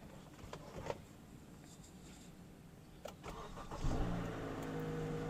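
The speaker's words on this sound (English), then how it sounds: "we got the car running" A car engine cranks and catches about four seconds in, then settles into a steady idle; light handling noises come before it, with no speech.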